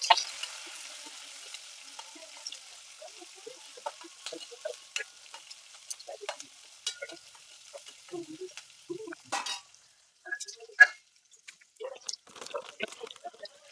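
Ginger, onions and carrots sizzle in hot oil for upma while a spoon stirs and scrapes the pan, giving a soft steady fry with frequent irregular clicks and taps up close, and no talking.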